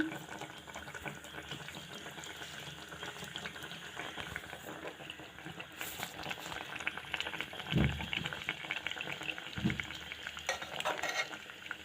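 Dal dumplings simmering in a pot, a steady close bubbling hiss of boiling liquid with a couple of brief louder splashes or stirs, no talk.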